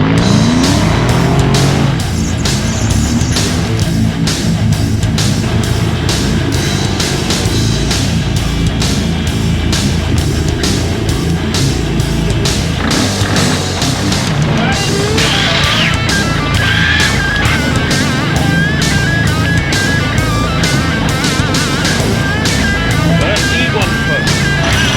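A car being winched around a tree by its rear winch during an off-road winch challenge, with loud continuous engine revving and mechanical strain, people talking and shouting over it throughout.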